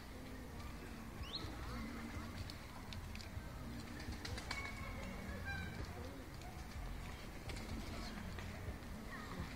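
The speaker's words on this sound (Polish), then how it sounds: "Ptaszki." Birds chirp and coo in the distance in a park in Kazimierz, scattered calls over a steady outdoor background rumble.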